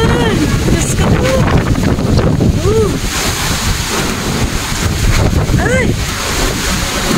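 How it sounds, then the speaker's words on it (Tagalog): Strong winds of Super Typhoon Kristine roar loudly and without pause, a dense, gusting rush close to the microphone, while a voice briefly exclaims over it. "Grabe ang lakas ng hangin."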